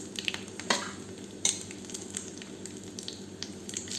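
Mustard seeds, urad dal, curry leaves and dried red chili tempering in hot coconut oil, sizzling and crackling steadily near the microphone, with a few sharp pops and stirring scrapes, no voices.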